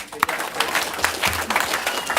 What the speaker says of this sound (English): Y'all give them a hand.